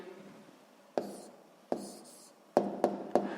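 Pen or pencil writing down the answer to a sixth-grade maths proportion exercise, heard as five sharp taps and short scratches at a steady pace, close and fairly quiet, with no talking.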